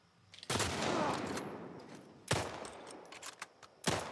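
Gunfire in The Last of Us video game comes as three sharp, loud blasts spaced about two seconds apart, each trailing off in a long ringing decay.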